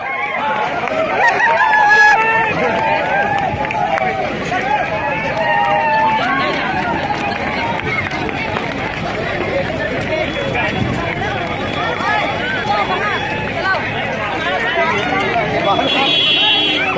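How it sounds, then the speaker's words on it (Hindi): A large public crowd gathers at an outdoor Bhojpuri film shoot, filling the air with a dense, steady babble of many voices and shuffling movement, with close talking and shouts throughout. "कितनी ज्यादा पब्लिक की भीड़ लगी हुई है"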